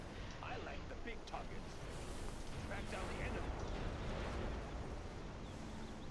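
Continuous heavy booming and rumbling battlefield fire from artillery in the real-time strategy game Command & Conquer: Generals Zero Hour, a dense, loud barrage with someone talking over it throughout.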